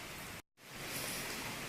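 Steady rain pours down outdoors in Bali, a dense continuous hiss that drops away briefly near the start and then returns at full strength.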